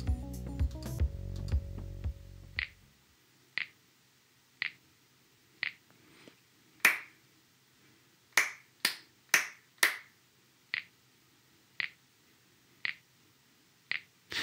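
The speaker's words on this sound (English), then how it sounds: "we have to listen to the clapping pattern" Claps in a rhythm pattern played back by a Scratch sprite, about fifteen sharp, isolated hand claps in an uneven sequence with a short cluster in the middle, after a brief burst of low noise at the start.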